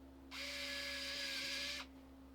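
A small electric screwdriver drives a screw back into a game controller during a Hall effect stick repair, one steady high whir lasting about a second and a half over a quiet hum.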